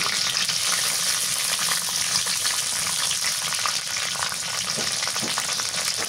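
Onions frying in hot oil with bay leaf, cardamom and cinnamon in a pot on a clay stove, a loud, constant sizzle with faint stirring scrapes, no voices.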